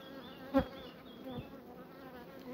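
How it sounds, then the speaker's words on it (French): Honey bees in a colony living in a chestnut tree give a soft, steady hum at low level, with one brief louder buzz as a bee passes close, then fainter drones. "Les abeilles jeunes."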